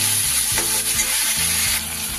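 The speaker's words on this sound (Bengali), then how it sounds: "সব কিছু খুব ভালো করে কষিয়ে নেব" Chopped tomato and ginger-garlic paste sauté in hot oil in a pan for a fish curry, giving a steady, close, even sizzle with soft stirring scrapes and no voices.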